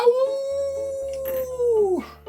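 A small puppy wearing a little poncho lets out one long, drawn-out howl that rises, holds steady, then drops off at the end, close and fairly loud, with a low hum running underneath.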